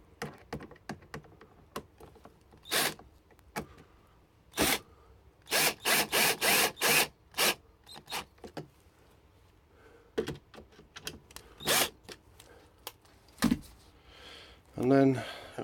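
Screws being done up by hand on a Ford Escort Mk3 heater matrix, giving scattered clicking and ratcheting bursts in irregular clusters, close by, with brief talk in between.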